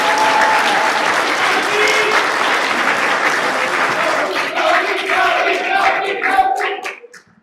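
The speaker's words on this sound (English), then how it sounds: "Can y'all stand up so we can give a quick round of applause?" At a university ACM research symposium, a packed room bursts into loud, sustained applause mixed with a few cheers and voices, holding strong for several seconds before fading out.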